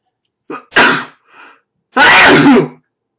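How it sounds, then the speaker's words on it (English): Sneezing from one person nearby: a short sharp sneeze followed by a small sniff, then a second louder, longer sneeze, with silence between and no talking. "Excuse me, sorry with the sneezing"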